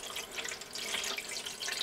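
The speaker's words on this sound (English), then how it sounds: "Pour your water in" Water is poured through a filter into a mason jar, making a steady, close splashing trickle that runs without a break and with no voices.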